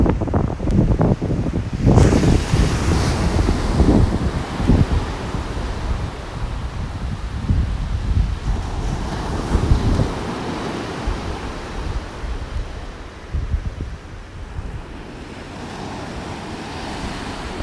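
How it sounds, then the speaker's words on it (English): Gulf of Mexico surf rolling onto a beach in North Naples, Florida, a continuous wash of breaking waves mixed with wind buffeting the microphone, no voices. "Not as many waves as yesterday"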